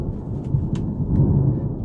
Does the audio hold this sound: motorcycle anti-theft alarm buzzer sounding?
no